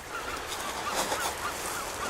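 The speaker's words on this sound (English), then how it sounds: "There's cute seagulls up there" Seagulls calling over the sea near Anacapa Island, heard from a boat crossing out of Ventura; faint, scattered cries sit under a steady rush of wind and engine noise.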